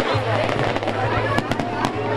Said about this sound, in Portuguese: Esses fogos de artifício.